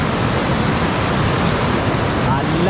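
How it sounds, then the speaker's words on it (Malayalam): Cold river water rushes past with great force near a bridge in Kyrgyzstan, a loud, dense, unbroken roar filling the short stretch, with no speech. "നല്ല ഫോഴ്സിലാണ് വെള്ളം വരുന്നത്"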